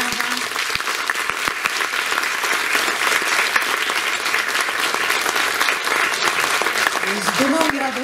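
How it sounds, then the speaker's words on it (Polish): An audience at a young musicians' graduation concert in a theatre gives sustained, dense applause that stays loud and steady throughout, with a few voices briefly audible near the end. "Tak, oto one, wielkie brawa."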